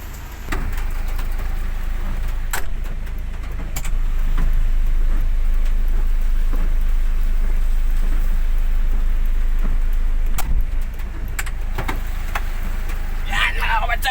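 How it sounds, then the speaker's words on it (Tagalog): Heavy rain drums on a moving Lalamove delivery vehicle, a dense continuous patter over a low road rumble, with occasional sharper drops and a voice speaking now and then. "Yan, mga ka-WhatsApp, umulan."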